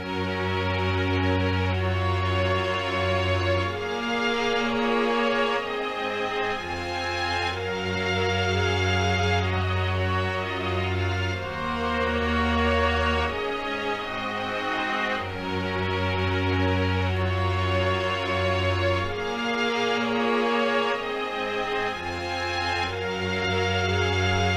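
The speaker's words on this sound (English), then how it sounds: "The strings here, these are all done through separate MIDI channels that are going into Miroslav Philharmonic" Orchestral string section played from Miroslav Philharmonic sample presets on separate MIDI channels, sustaining layered chords that shift every few seconds over a low held bass line, full and steady throughout.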